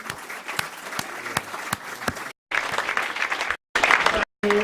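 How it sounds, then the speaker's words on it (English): Members at a horse owners' association forum applaud their panel, a dense run of clapping with a few sharp individual claps standing out, broken by several abrupt silent gaps. "Round of applause for our panel,"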